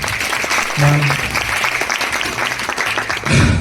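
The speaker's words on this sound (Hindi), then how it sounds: "तालियां बजनी चाहिए सर" Steady audience applause at an MBA seminar fills the whole stretch, with a few voices and low tonal sounds mixed in underneath.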